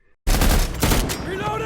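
Cover fire in a military action film scene bursts in abruptly as loud, rapid automatic gunshots, then trails off into echoing reports.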